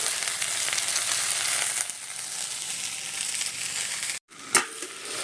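Okra (bhindi) sizzles steadily in hot oil in a pan while being stirred, with a brief dropout and a scraping stir near the end.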